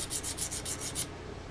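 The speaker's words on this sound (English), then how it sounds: "Fiberglass control horns are prepped for gluing by some light sanding on their base." Light sanding on the base of a fiberglass control horn for a Seagull Models Cessna C-188 Agwagon RC plane: about half a dozen quick, even rasping strokes in close succession, then they stop.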